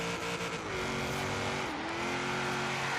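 Engine of the Knight Rider KITT car revving in the racing game Forza Horizon 3, a loud steady drone whose pitch climbs, dips briefly at a gear change, then holds high.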